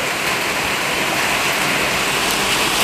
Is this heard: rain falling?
yes